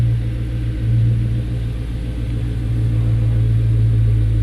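A lowered car's engine idles with a steady low rumble and slight revving as it creeps up onto race ramps, close and continuous without speech.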